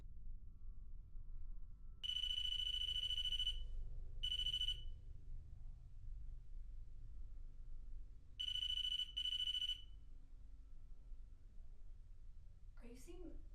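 Spirit seeker paranormal detector alarm sounding during a night investigation in an old manor, giving loud steady electronic beeping bursts that start and stop in several runs, heard over a low background rumble.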